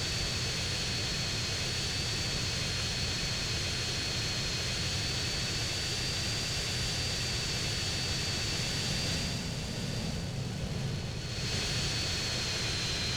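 A steady, loud roar of jet engines fills the whole stretch, a continuous broadband rush with a faint high whine and no voices.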